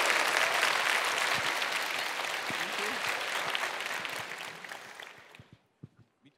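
Audience applause for costumed cosplayers at an anime convention stage, dense and sustained clapping that fades out toward the end, leaving a few scattered claps.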